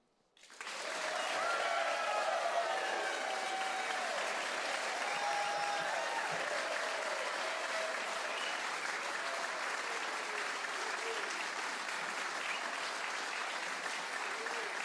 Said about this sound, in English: Next thing you're gonna do is you're gonna like excited applause.